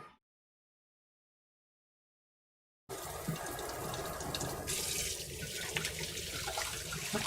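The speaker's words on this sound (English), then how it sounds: "I'm gonna wash my hands real quick." Hands being washed under a running kitchen tap while cooking, a steady close hiss of flowing water that starts suddenly after a silent gap and continues to the end.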